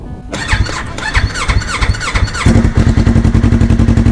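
Yamaha YZF-R3 motorcycle fitted with an aftermarket exhaust starting up, with a squealing starter whine followed by the engine catching and settling into a loud, steady rapid pulse close by.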